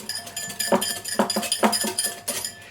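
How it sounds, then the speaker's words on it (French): A utensil clinks and taps repeatedly against a bowl while lemon mayonnaise is mixed, quick irregular metallic knocks close up with no talking. "on va bien tout mélanger"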